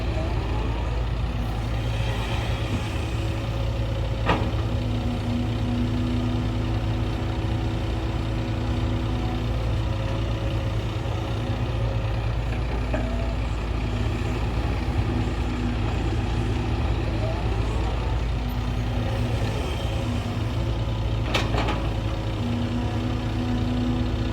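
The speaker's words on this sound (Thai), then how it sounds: "ตักเร็วดีครับ เครื่องยนต์ก็ไม่ได้เร่งแรงครับ เดินเรียบๆเลย" A Hitachi ZX120-3 excavator's diesel engine runs at a smooth, steady, moderate rev while digging, a continuous low rumble up close with occasional metallic knocks and hydraulic whines over it.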